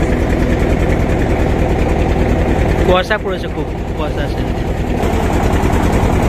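A steady, loud boat engine drone rumbles throughout at close range on a foggy winter morning, with a person speaking briefly over it midway.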